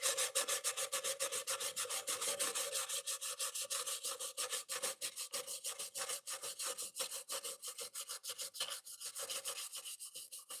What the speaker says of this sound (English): you grab some semi-rough sandpaper.